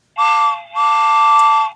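A clear, loud train whistle with two sustained blasts, the first short and the second longer, steady and piercing.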